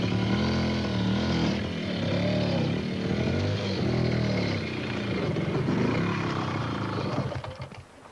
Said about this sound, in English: In a disused stone quarry near his house, Peter Ryle spends a good deal of his time off on his bike, for he's a dedicated motorcycle trials rider